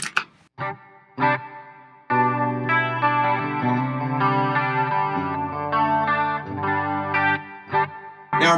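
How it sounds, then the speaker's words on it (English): Electric guitar through a Line 6 Helix chamber reverb in stereo, with the amp's own preamp: a few picked notes, then sustained chords and a melodic line ringing with a lush, spacious tail, played alone. "Let's hear the chamber in stereo."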